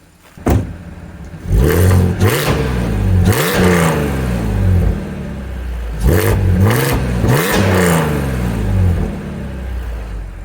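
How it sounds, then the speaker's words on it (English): An Audi S5 engine with test pipes revs sharply with a raspy, loud exhaust, two bursts of quick throttle blips rising and falling, close by with no talking. "let's do a couple of light revs"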